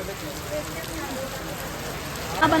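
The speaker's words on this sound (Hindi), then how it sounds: "गाइस यहाँ पे जब बारिश हो रही है" Rain falls outdoors as a steady, broadband hiss of drops on surfaces, continuous and fairly even throughout, with a brief brighter patch near the end.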